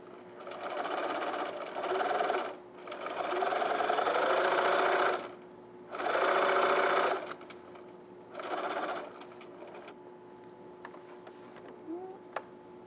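A foot-pedal-driven sewing machine stitches a beginner zipper clutch handbag in several separate bursts of a few seconds each, close and steady with fast rhythmic needle ticking, separated by quiet pauses while fabric is pivoted at a corner.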